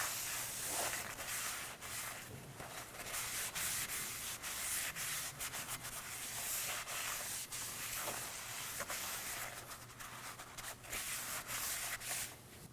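A rag wipes brake cleaner off a rotor on a 2016-2020 Kia Sorento 2.4L, a continuous soft scrubbing rub with faint hiss, quiet and close, running steadily with small irregular swells.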